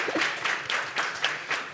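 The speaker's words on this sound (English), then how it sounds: "Please make a round of applause to them." A conference audience gives panelists a brief round of applause, scattered claps in loose bursts from a modest crowd, fairly soft and short.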